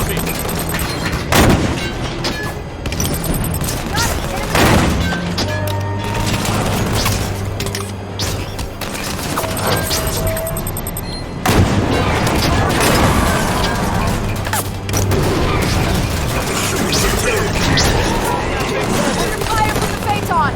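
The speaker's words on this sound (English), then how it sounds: "Soldier captain's firing on me!" Gunfire in the video game Halo 5: Guardians as a soldier captain shoots, with sharp repeated weapon blasts and booms mixed with in-game effects and a voice speaking, loud and busy throughout.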